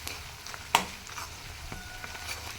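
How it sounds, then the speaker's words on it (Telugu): Spices frying in oil for a chicken fry, a quiet steady sizzle close by with one sharp clack of a utensil early on and a few soft scrapes, no talking. "ఈ ఆయిల్లో ఈ మసాలాలు కూడా బాగా ఫ్రై అవ్వాలండి."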